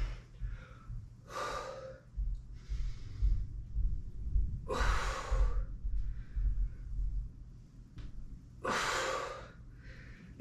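Heavy breathing during pregnancy workout squats with weights, three strong rhythmic exhales spaced a few seconds apart over softer breaths and a low background hum, close and fairly quiet.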